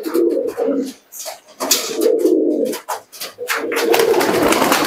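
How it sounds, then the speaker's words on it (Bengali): Local Giribaz pigeons at a breeder's loft coo over and over, loud and close, in deep rolling phrases with short pauses, several birds overlapping. "ভালো পায়রা, এটা খুবই ভালো পায়রা"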